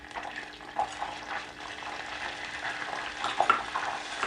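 Flour roasting in melted butter in a pan for béchamel sauce: a soft, steady sizzle with quiet scraping of a spoon stirring throughout.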